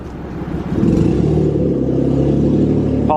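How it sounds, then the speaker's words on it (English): Steady road traffic rumbles beside a major thoroughfare in Portland, with a car engine swelling louder and closer after the first second and a low continuous drone persisting throughout. "apologize for the car noises too, we're kind of right here on the major thoroughway"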